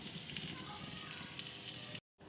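Rice frying in a pan gives a steady, close sizzle with dense crackle that runs evenly for about two seconds before cutting out briefly and then returning.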